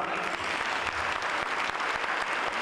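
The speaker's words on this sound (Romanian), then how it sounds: "Vă rog să-i aplaudați." Steady applause from an audience at a university closing ceremony for journalism graduates, continuous even clapping at moderate distance with no talk over it.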